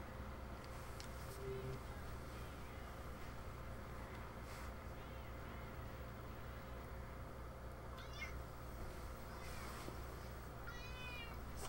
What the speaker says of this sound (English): All these meows.